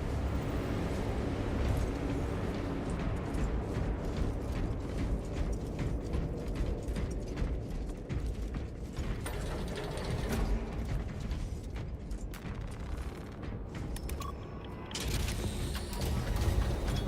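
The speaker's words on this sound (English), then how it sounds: "This elevator goes to the rooftop." Elevator machinery grinds and clanks steadily on its way up in Warhammer 40,000 Space Marine 2, a dense mechanical rumble of ratcheting gears and creaks that holds the same loudness throughout, with no speech.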